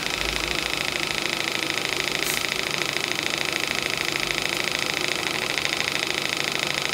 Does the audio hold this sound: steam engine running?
yes